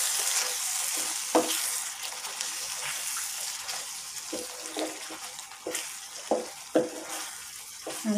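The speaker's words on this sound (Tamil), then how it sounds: "நல்லா கிளறி விட்டுருவோம்." Paneer masala sizzles steadily in a pan while it is stirred, with scraping spoon strokes and soft clanks breaking through the continuous frying hiss.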